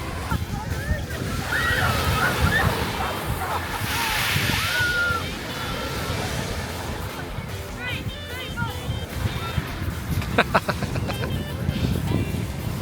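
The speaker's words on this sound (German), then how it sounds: "Ziehen schon ganz schön rein, die großen Wellen." Big sea waves surge and slosh against the Devon coast on England's Jurassic Coast, a loud, continuous roar of surf with splashes and wind, while people talk faintly now and then.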